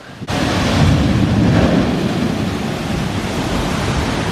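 Water rushes and splashes as a boat ride plunges through the lagoon at Toon Lagoon in Islands of Adventure. A sudden onset gives way to a loud, steady, broadband roar with no talking.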